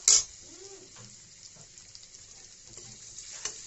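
Paneer pieces frying in a pan with a little turmeric give a soft, steady sizzle, with a sharp clink at the start and a few light scrapes and taps; no one speaks.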